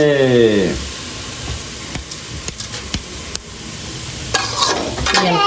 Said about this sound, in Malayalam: ഇളക്കി ഒന്ന് റെഡിയാക്കാണ്ട് വറുത്തെടുക്കാം